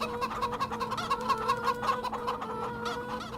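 A large flock of farm chickens, starting from about 1,750 adult birds, clucks in a dense, continuous chorus of overlapping calls with no speech.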